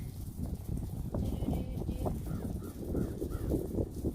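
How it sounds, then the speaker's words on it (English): Several crows caw intermittently at a moderate distance over a steady, busy outdoor background murmur. "And there are crows here too."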